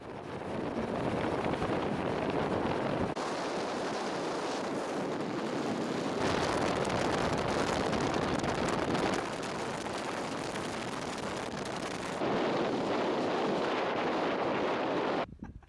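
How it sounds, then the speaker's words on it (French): A fast motorboat runs steadily toward the ice cap at the Twin Glacier in Greenland, its engine roar blended with heavy wind buffeting the microphone, loud and continuous with brief shifts in tone. "Dans son bateau rapide, nous approchons la calotte glaciaire au plus près."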